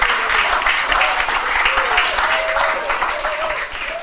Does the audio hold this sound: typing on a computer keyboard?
no